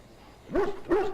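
A Mabari war dog from the Dragon Age: Origins video game gives two loud, close barks about a third of a second apart, following a quiet lead-in.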